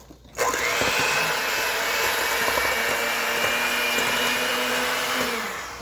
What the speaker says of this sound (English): I'm going to start mixing the flour together.